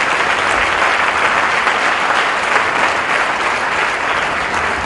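A church congregation applauds loudly and steadily, with dense, even clapping that fills the room throughout.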